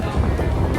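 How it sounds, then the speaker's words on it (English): Hurricane wind rushing through a building corridor in Maui, a loud, steady roar and buffeting against the microphone, continuous and close throughout the short moment. "Stand in a windy corridor."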